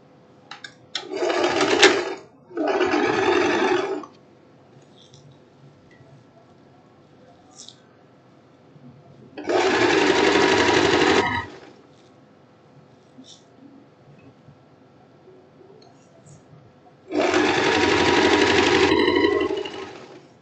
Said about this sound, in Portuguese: E agora eu vou costurar o valor que tá debaixo da cava